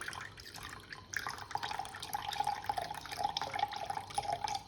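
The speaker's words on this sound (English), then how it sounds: "I have this jug here. And I'm gonna pour in half a cup." Almond milk is poured from a jug into a measuring cup, a close, quiet trickling stream of liquid that starts with a few drips and then flows steadily, rising gently in pitch as the cup fills.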